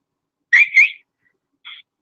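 A person gives short whistled chirps, two quick bright notes followed by a fainter third after a pause, heard alone against silence.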